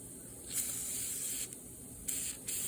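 Close, faint, steady aerosol hiss from spray coating the inside of a part for a 1965 Cadillac, with brief soft breaks and slight surges as the can is moved.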